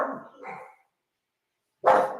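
Dog barking indoors, two short barks close by, then a pause and another loud bark.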